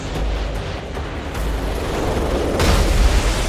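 Explosive shot fired in a Modern Warfare 3 campaign mission, a sustained rumbling boom with heavy low-end rolling throughout and a louder surge of blast noise near the end.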